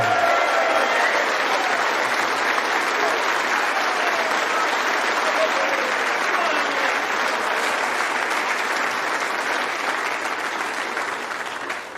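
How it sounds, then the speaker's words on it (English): Sustained crowd applause at a snooker champions evening for runner-up Judd Trump, a steady dense wash of clapping that holds for the whole stretch and thins slightly at the very end. "Please give a huge round of applause."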